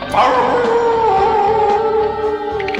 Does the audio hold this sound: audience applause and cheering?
no